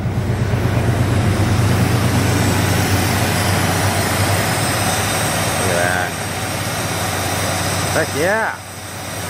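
A 1984 Ford F-250 engine runs with its belts turning, giving a steady, loud mechanical drone throughout while people talk briefly over it near the end.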